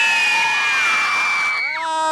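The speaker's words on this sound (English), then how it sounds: "let's hear one big scream." A crowd at a July 4th celebration screams together in one loud, sustained burst of high-pitched shrieks, with a few voices rising and falling at the end.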